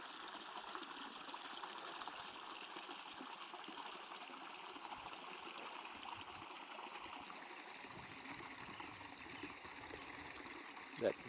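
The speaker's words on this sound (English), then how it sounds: "I don't know if you can hear that brook or not that runs through here" Steady broadband rush of a brook in Ireland flowing continuously, moderately quiet and unbroken, with a brief faint knock near the end.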